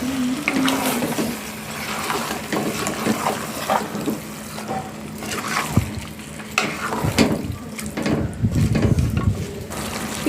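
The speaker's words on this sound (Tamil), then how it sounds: "இதை நல்லா பிரட்டிட்டு இதுக்கு தண்ணி சேர்த்துக்கொள்வோம் தேவையான அளவு" Water is poured into a pot of Sri Lankan style chicken curry, a gurgling, splashing stream up close with irregular sloshes and bubbling pulses throughout.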